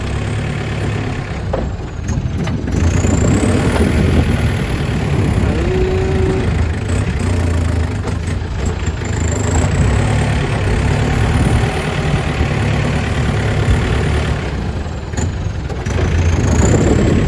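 A tractor used for ploughing rice paddies idles steadily throughout, a low rumbling drone with no talking, close by and fairly loud.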